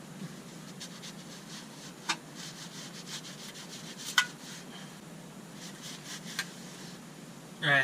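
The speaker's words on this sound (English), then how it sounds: "I'm gonna wipe some of the gunk off of this flange." A rag wipes gunk off a clutch flange on a 2005 Toyota Tacoma with a manual transmission, giving faint, steady rubbing and scraping strokes with a few sharper scuffs, close by and quiet, then a brief louder rustle at the end.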